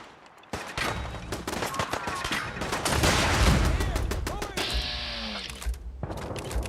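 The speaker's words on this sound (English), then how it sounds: "Who's shooting me?" Gunfire aimed at the player in Fallout 4's Nuka-World comes as rapid bursts of loud, close shots, dense and overlapping, with short gaps between volleys and a voice speaking now and then.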